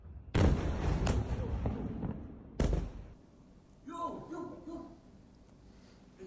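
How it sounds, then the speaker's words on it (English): A missile re-entry vehicle explodes a few blocks away during Iran's missile strikes on Israel. Two heavy booming blasts ring out with long rumbling decay, followed by voices shouting. "You can see it hits just a few blocks away. You can see the explosion."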